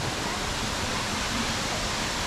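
Indoor waterfall inside a Thai shopping mall near a pool with large fish, giving a steady, even rush of falling water with no breaks, moderately loud and close.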